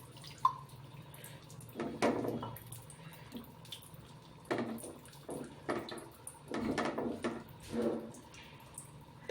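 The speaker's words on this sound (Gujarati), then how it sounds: "અને થોડુંક પાણી એડ કરશું." Water poured into a noodle sauce of tomato ketchup and cornflour in a pan, coming as intermittent splashy bursts and drips of moderate loudness, with no voices.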